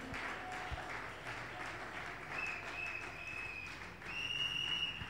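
A church congregation applauds, with steady clapping heard at a moderate distance and some faint voices mixed in.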